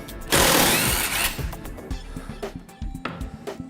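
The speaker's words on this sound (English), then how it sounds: "the brushless motor in here, it's constantly adding and releasing the torque" A brushless power driver sinks a screw through thick, knotty wood: a loud, dense whirring burst lasting about a second, then quieter, irregular ratcheting pulses as the motor keeps adding and releasing torque.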